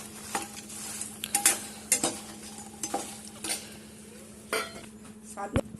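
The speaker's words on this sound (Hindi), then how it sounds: "तो अब हम अपने मखानों को रोस्ट करेंगे।" Makhana (fox nuts) stirred as they roast in ghee in a pan, a steady scraping rhythm with sharp utensil clinks against the metal and a faint sizzle underneath, close and fairly quiet.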